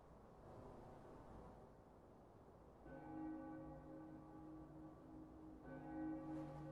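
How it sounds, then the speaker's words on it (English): A deep church-style bell tolls twice in the Bloodborne video game, each strike ringing out with a long sustained hum that fades slowly over a low, hissing backdrop. "Ooh, stock bell sound effect."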